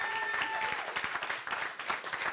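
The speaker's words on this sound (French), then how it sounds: "On applaudit très fort Sylvie." Audience applause at a slam poetry tournament in a youth and culture centre hall, a dense steady wash of many hands clapping throughout, with a brief voice fragment near the start.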